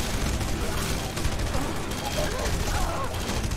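Gunfire in the video game Red Faction: Guerrilla, rapid bursts and volleys of shots with mechanical clatter, loud and continuous, while a player talks over it.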